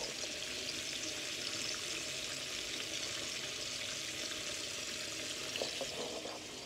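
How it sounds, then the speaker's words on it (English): Pork chops coated in seasoned flour fry in hot oil with a steady, close, bright sizzle and crackle that fills the whole clip, with a few louder pops near the end. "They fry nice and good."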